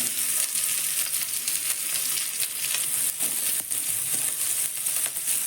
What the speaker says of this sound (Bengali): এবার টমেটোটা দিয়ে দিলাম ভালো করে ভেজে নেব